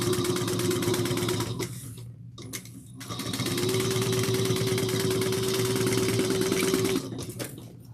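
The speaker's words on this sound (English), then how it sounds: "we are going to top stitch at 1/8 of an inch onto the side wings" A sewing machine topstitching an eighth of an inch along the side wings of a fabric tote bag: a close, rapid mechanical chatter running in two long bursts separated by a brief pause, then stopping.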